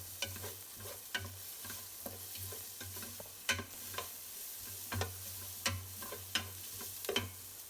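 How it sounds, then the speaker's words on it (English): Onions, ginger and garlic fry in a pot for a Moroccan harira soup, a quiet sizzle broken by regular sharp scrapes and taps of a spoon stirring, heard close with no voices. "Next will be the onions. All right, give that a little mix."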